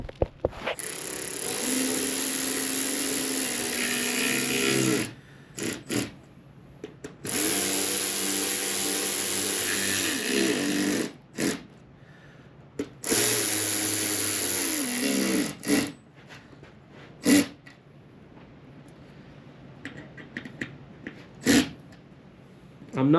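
A power tool drives and tightens bolts on a Yamaha TW200 motorcycle in several long whirring runs separated by pauses, followed by shorter bursts and clicks, close and fairly loud.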